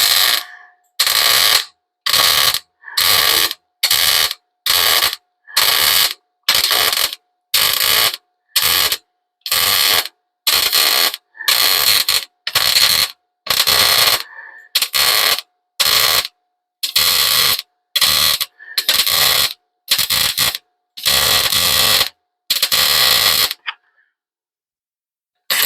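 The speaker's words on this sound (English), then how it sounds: "Anyway, there's a bunch of welding." Welding a patch panel onto a car: about twenty loud, crackling bursts in a steady stop-start rhythm, each lasting roughly half a second to a second, close and harsh, then silence at the end.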